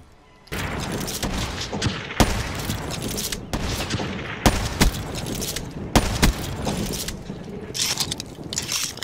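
Rapid gunfire in Black Ops 3 multiplayer, bursts of sharp cracks and thuds repeating in quick clusters, loud and close after a brief quiet start, with no voices.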